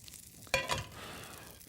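Olive oil in a hot frying pan on a cooking show gives a sudden sharp sizzle that flares for a moment, then fades to a soft, steady hiss. The sound is close but fairly quiet.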